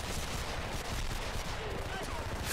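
Gunfire in the video game Homefront during a multiplayer match on a junkyard map: a dense, continuous burst of automatic fire and loud battle noise filling the whole moment without a break.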